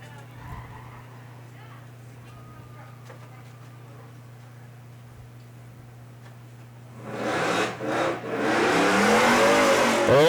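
A 1986 Firebird and a 2002 Corvette launch side by side at Seekonk Speedway spectator drags, engines rising suddenly into a loud roar with tire spin after a quiet idle stretch, an announcer talking over the scene.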